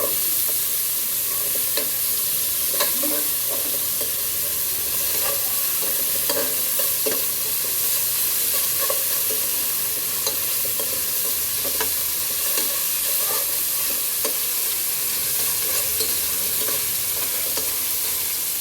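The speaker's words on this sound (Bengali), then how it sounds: "এখন আমি তেলের মধ্যে পেঁয়াজটা ভেজে নেই" Onions frying in hot oil for a Bengali rui fish curry with potatoes, giving a steady close sizzle with scattered crackles and occasional stirring scrapes throughout.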